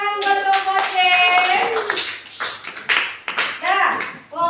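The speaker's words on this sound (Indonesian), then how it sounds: "Tepuk tangan buat kelompok C." A classroom of students claps together for a group that has just presented, brisk hand claps mixed with children's voices calling out over the top.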